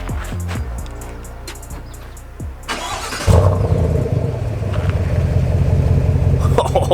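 A Chevrolet Silverado ZR2 with a 6.2 engine and an aftermarket exhaust cranks briefly and fires up after some clicks and birdsong, then settles into a loud, steady, deep idle nearby.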